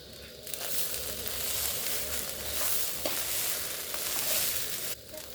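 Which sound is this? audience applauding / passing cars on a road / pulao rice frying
pulao rice frying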